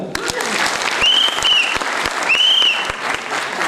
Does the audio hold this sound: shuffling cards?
no